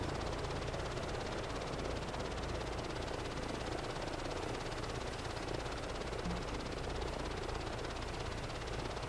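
Helicopter rotor and turbine engine in Microsoft Flight Simulator 2024, a steady, dense broadband whir that stays loud and unbroken throughout with no talking over it.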